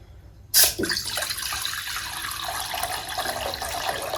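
Water splashes suddenly into a pot and keeps pouring steadily with a bright, rushing hiss, close by, with no talking.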